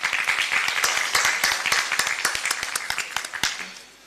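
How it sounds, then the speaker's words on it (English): Audience at an early childhood care and education symposium applauding the speakers, a steady burst of many hands clapping that tapers off toward the end, with no talking. "So kindly join me to raise an applause to the speakers."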